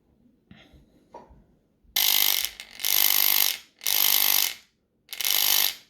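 Homemade solenoid engraving tool running at 50 hertz, giving four loud buzzing bursts of roughly half a second to a second each, separated by short silences, after some faint handling noises.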